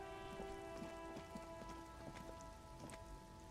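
Steady rain from the video game Disco Elysium patters on surfaces, a soft continuous hiss with scattered drops, faint and even throughout with no voices.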